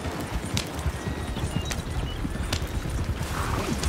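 Many hooves pound in a steady, dense clatter of stampeding horses in the video game Red Dead Redemption 2, continuous and fairly loud, with an occasional faint whinny.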